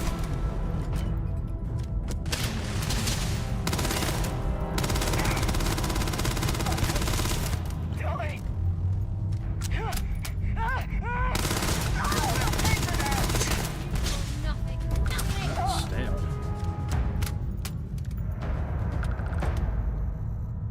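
Gunshots ring out in Starfield, a sci-fi game, as scattered cracks and short volleys within dense, continuous combat noise and music, with a voice talking over them at times.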